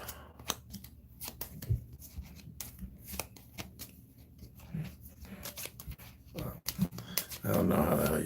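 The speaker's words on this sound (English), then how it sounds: "So we're going to shuffle these up." A deck of game cards for the solo card game Totemic is shuffled up close in a series of quick riffling, flapping bursts. The sound is fairly quiet and is followed by a louder rustle at the end, with no talking.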